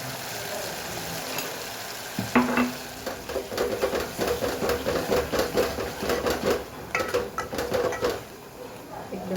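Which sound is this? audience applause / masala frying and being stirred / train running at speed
masala frying and being stirred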